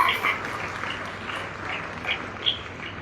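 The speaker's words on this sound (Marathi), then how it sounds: "त्याच्याबद्दल त्यांचं सगळ्यांनी कौतुक करावं टाळ्या वाजून त्यांचं स्वागत करावं" A crowd claps to welcome guru Nagnath at a Shri Rudra camp gathering in Nanded, a steady mid-distance applause with a few louder swells, voices faintly underneath.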